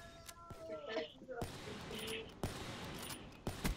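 Gunfire in Call of Duty Black Ops III: several sharp shots spaced about a second apart, close and loud, with voices talking over and between them.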